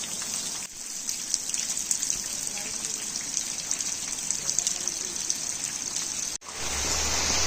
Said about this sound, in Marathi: आता पाऊस पडत राहणार आहे रात्रभर